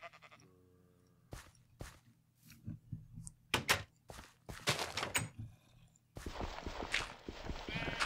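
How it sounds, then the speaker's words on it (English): Sheep bleating in Minecraft's Tekkit Lite modpack, several short bleats mixed with game footstep and block sounds against a quiet background. "I hear sheep."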